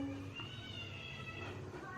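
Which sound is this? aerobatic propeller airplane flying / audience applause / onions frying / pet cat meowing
pet cat meowing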